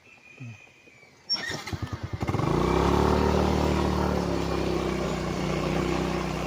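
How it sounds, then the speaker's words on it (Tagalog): A motorcycle engine starts with a few sputtering pops, then settles into a loud, steady running rumble close by, at a rural property in Cavinti, Laguna. "Kaya sakay na muna tayong motor"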